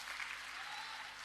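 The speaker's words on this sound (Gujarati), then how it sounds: "જોરદાર તાળીઓથી વધાવો એમને।" A crowd at a political rally in Surat applauds in a brief, faint wash of steady clapping that sounds distant and muted.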